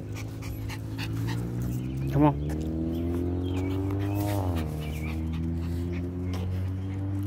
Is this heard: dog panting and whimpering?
yes